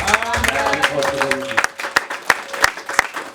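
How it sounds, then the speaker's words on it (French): A church congregation applauds and cheers to welcome an apostle, loud clapping and voices at first, thinning to a few sharp, evenly spaced claps standing out close by. "Sous vos acclamations, s'il vous plaît."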